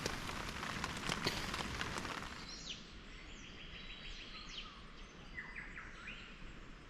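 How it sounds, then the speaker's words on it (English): Steady rain patters on a tent at night near Mount Erica, Australia, loud at first then easing, with birds chirping and tweeting in the background. "night number one in the tent, and it is raining."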